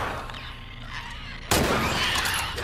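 Gunfire in the video game The Last of Us Part II: quiet ambience gives way to a sudden loud burst of shooting that stays harsh and dense to the end.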